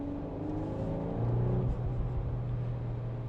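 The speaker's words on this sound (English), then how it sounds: "Nice exhaust, little exhaust burbles and pops." Exhaust from a 2024 VW Golf R with a six-speed manual rumbles steadily as the car drives around town, a low throaty drone with a subtle swell midway and faint burbles.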